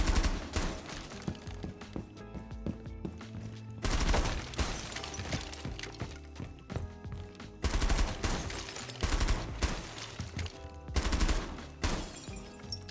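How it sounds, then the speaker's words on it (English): Automatic SMG fire shattering glass in the tactical shooter Rainbow Six Siege, loud and close, with several dense bursts of rapid shots separated by brief pauses and layered over steady game background sound. "go with an SMG and just shoot in a like round fashion, so this way you can hear the glass break"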